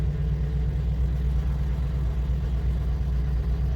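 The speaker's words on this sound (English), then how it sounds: "Let me give it a crank" A Hummer H2 engine runs steadily at idle right after being cranked, a continuous low mechanical hum that stays even and close throughout with no voices.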